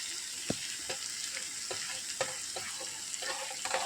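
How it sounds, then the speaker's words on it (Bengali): Grated carrots tumble into chicken cooking in a pan, giving a steady close sizzle with a few sharp scrapes and stirring knocks spaced through it, no voices. "এর মধ্যেই আমি দিয়ে দেবো এবারে গ্রেট করে রাখা গাজরগুলো।"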